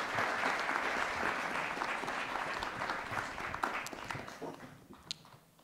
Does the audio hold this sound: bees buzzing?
no